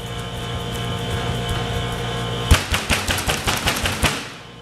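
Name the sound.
palm pounding baguette dough to seal the seam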